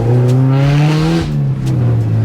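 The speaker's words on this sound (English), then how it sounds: "the sound in this lightweight chassis of an EG Civic" A loud K-series-swapped EG Honda Civic engine revs hard up through its range, drops briefly, and climbs again, close and droning with strong harmonics.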